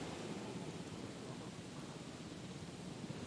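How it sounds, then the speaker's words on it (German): Steady rain and thunderstorm weather from the Jurassic World Evolution video game hiss as a faint, even wash of noise with a low rumble underneath, constant throughout and without voices. "Nee, das ist einfach nur Scheißwetter."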